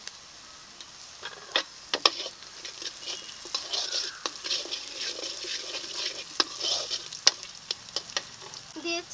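Onions and slit green chillies fry in a pan nearby, a soft sizzle punctuated by sharp spatula scrapes and clicks at an uneven pace, with no talking.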